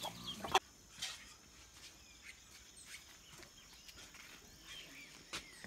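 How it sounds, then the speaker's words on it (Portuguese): Chickens and naked-neck chicks cluck softly in a home garden, brief faint calls scattered over quiet background with a few louder peeps. "Gente, mas eu morro de medo de galinha."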